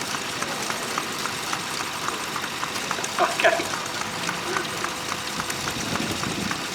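An Austin car with a 4-litre engine idles in a low, steady rumble at an outdoor steam rally, while a person talks briefly nearby.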